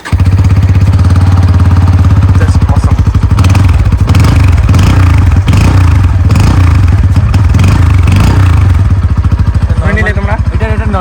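A Bajaj Pulsar N160 motorcycle engine runs loud and close, with a rapid throbbing idle, then revs and bursts of throttle before settling back.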